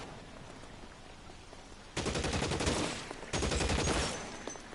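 Gunfire from the video game L.A. Noire comes in two sharp bursts of rapid automatic shots, loud and close, separated by a brief lull.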